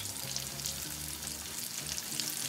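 Asian-style chicken wings fry in hot oil with a continuous crackling sizzle, close and fairly quiet, over a low steady hum.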